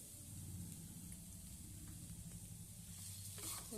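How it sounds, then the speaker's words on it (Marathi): Sweet paan gulkand modak mixture with sugar and green colouring being sautéed in a pan gives a steady, soft sizzle and faint stirring scrape throughout, low and close, with no talking. "हे मिश्र असं घट्ट होईपर्यंत परतून घ्यायचं आहे घट्ट गोळा झाला पाहिजे"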